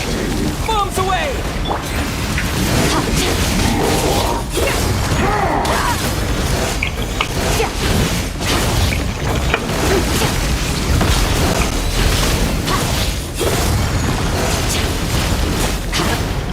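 Bombs exploding in the video game Genshin Impact, with dense booming blasts and crashing bursts packed continuously over a loud game soundtrack, as a character's voice calls out between them.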